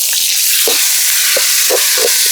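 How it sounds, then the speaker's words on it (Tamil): Tomatoes sautéing in an oiled pan for a crab masala produce a loud, continuous sizzle, broken by several close stirring scrapes and knocks of a spoon against the pan. "தக்காளி எல்லாம் வதங்கி கொண்டிருக்க போதில்"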